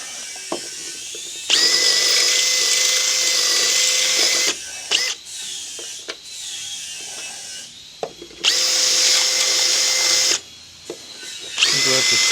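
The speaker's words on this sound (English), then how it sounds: "We'll have to step up the old drill bit just a fuzz." A power drill with a 5/16 bit bores into metal during exhaust work on a rare Marmon semi truck restoration, with several loud, sustained whining bursts separated by brief pauses, clicks and handling noise.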